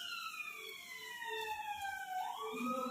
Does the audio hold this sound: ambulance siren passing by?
yes